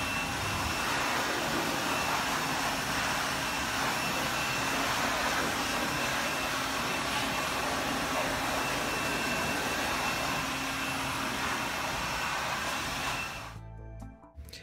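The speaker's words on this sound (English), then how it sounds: "Dry it off as best we can with forced air." A forced-air blower dries a car after a snow foam wash, producing a loud, steady close-up roar that holds for most of the time before cutting off near the end.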